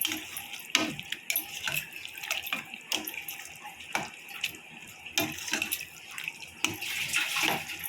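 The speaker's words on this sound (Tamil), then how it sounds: "இப்போ வந்து கொஞ்சமாக நம்ம தண்ணி சேர்த்துக்க போகிறோம்." Water splashes into a pan of chicken masala for chicken thokku in irregular, close, fairly quiet bursts of pouring and sloshing, with no talking over it.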